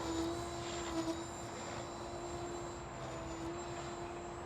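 Goblin Kraken 580 RC helicopter in flight doing pitch pumps, a steady loud rotor and motor whine holding a constant tone throughout, with a slight surge partway, no voices.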